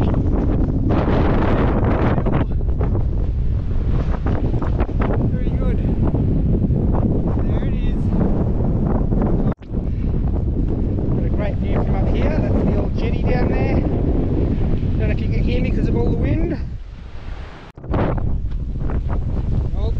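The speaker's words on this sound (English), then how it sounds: "Very windy." Strong wind roars and buffets against the microphone almost continuously, loud and close, with brief lulls, on a hilltop near the Pioneer Memorial on Kangaroo Island.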